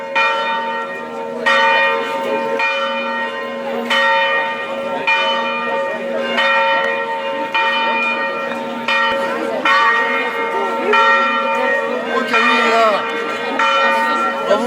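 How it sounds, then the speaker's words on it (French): Church bells peal loudly and repeatedly, overlapping strikes ringing out in a steady rhythm with long, shimmering decays. "J'avais pas prévu les cloches."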